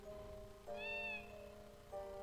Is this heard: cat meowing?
yes